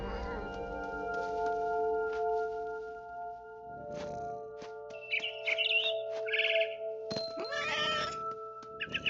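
A cat meows and caterwauls inside the video game What Remains of Edith Finch, with bird chirps and game sounds around it, several short calls near the end.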